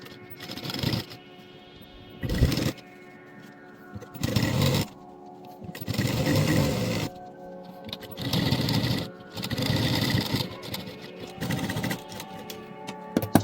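A sewing machine stitching a shirt collar runs in repeated bursts of steady mechanical whirring, loud and close, with short pauses between each run and no talking.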